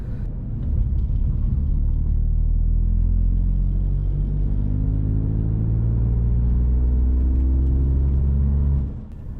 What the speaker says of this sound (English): Let's try accelerating from 30 to 60 miles per hour by simply